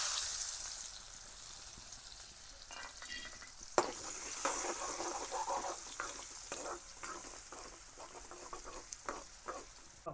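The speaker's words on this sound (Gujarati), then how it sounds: "થોડીક હિંગ નાખી દઈશું. ડુંગળી નાખી દઈશું." Onion frying in hot oil with mustard seeds, cumin and asafoetida while making stuffed bitter gourd curry, a steady close sizzle with scattered pops and spatters, louder after the onion goes in, no voices.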